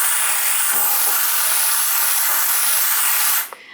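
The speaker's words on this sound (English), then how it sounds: "Now what I will do is I'll get my steam cleaner and I'll give it a really good clean." A steam cleaner blasts a loud, continuous hiss of steam onto a house brick for several seconds, then cuts off abruptly.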